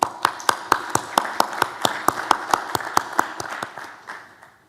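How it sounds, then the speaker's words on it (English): Audience applause at a journalism awards ceremony honoring Pulitzer-winning investigative reporters, heard as a run of sharp, evenly spaced claps that fade out toward the end. "Let's give a warm round of applause for Margie and Robin."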